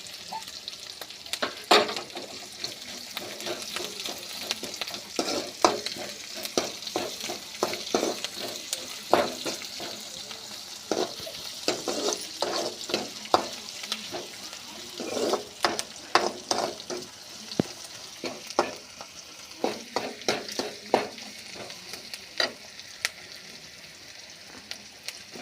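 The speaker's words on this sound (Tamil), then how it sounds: "அடுத்தது கருவேப்பிலை போட்டுக்கலாம்ப்பா." Curry leaves sizzle and crackle in hot oil for carrot poriyal, a dense, steady frying hiss broken by frequent sharp pops and stirring scrapes, heard close up for the whole stretch.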